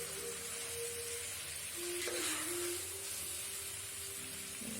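Boiled spaghetti being mixed into a spice masala in a hot pan gives off a steady sizzle and hiss, with faint scraping and a brief swell of frying noise midway.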